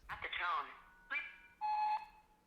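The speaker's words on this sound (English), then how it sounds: "there's a keyboard shortcut that lets you jump directly to the beep like this." An answering machine's voicemail beep: a single steady electronic tone lasting about half a second, coming after a brief stretch of voice-like sound.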